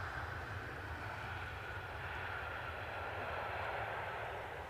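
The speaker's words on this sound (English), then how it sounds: "So British Airways in from London Heathrow." A British Airways airliner arriving at Edinburgh Airport from London Heathrow gives off a distant, faint, steady jet roar that holds evenly throughout with no talk.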